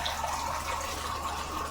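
Water poured into a grinder jar to rinse out leftover ground spice paste of green peppercorn and kanthari chili, for a small-sardine dish; a steady, close trickling and rushing flow with no talk.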